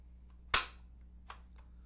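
The trigger of an FN PS90 carbine chambered with a snap cap is dry-fired, giving one sharp close click followed by a couple of faint, softer mechanical clicks.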